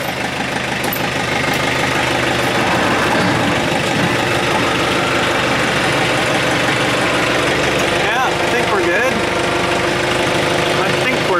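A steady idling tractor engine rumbles continuously at close range, loud and even throughout with slight mechanical knocking.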